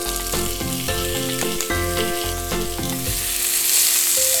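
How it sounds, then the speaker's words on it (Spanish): Pork belly browns over fairly high heat in a frying pan with a few drops of vegetable oil, giving a loud, close, continuous sizzle with stirring and scraping, with steady tones droning faintly underneath. "En una sartén hemos puesto unas gotitas de aceite vegetal, dejamos que caliente y lo que vamos a hacer ahora es dorar un poco la panceta."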